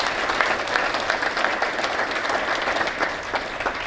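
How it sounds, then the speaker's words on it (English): Audience applause at a community business alliance general meeting in Sonoma County, a steady dense wash of many hands clapping that holds evenly for the whole stretch, fairly close and loud, with no talk over it. "let's all give each other a round of applause"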